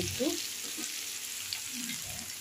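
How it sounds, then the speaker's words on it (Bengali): Mixed vegetables with potato fry in a pan, giving a continuous broadband sizzle with faint stirring underneath, steady and close throughout. "দেখুন, আমার সবজিগুলো ফ্রাই হয়ে গেছে।"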